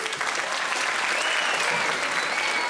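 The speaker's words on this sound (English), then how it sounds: "Can you have one more round of applause" Applause from an audience after a Rajasthani dance performance at a Diwali show, a dense, steady clapping that holds loud and even throughout.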